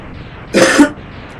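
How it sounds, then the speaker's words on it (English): One sharp, harsh cough bursts out close by, brief and loud against a quiet background. "that was quite a cough"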